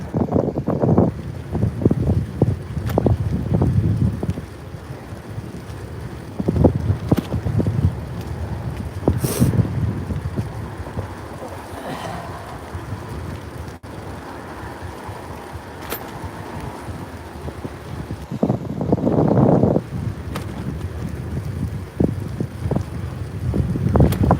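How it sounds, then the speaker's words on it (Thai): Strong wind near the water while cycling to work buffets the microphone in gusty, rumbling bursts that rise and fall, with no talking. "ลมจะแรงหน่อย เพราะว่าอยู่ใกล้น้ำ"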